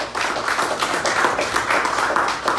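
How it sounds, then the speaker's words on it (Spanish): A church congregation claps and applauds together, a steady dense patter of many hands that stays loud and even throughout with no voices over it. "Dale un aplauso al Señor."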